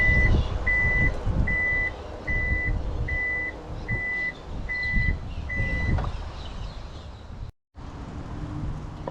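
A 2021 Toyota RAV4 Cruiser Hybrid power tailgate closing: a string of eight evenly spaced warning beeps over motor hum, ending in a solid thunk as it shuts, near and clear.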